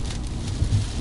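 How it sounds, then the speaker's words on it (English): Warm tropical rain falls outdoors in Ponchatoula on an 80-degree morning, a steady soft hiss of drops close by with no voices. "It's 80 degrees outside and raining."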